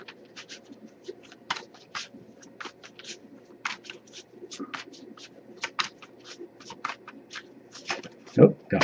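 A tarot card deck is shuffled by hand in a stretch of soft, irregular riffling and slapping card sounds, close and moderately quiet, ending with a louder thump.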